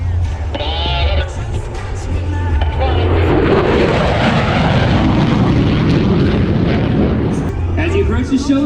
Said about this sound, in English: Major Smiths will set up for a series of maneuvers, which will demonstrate the F-16's ability to turn tight and stay unpredictable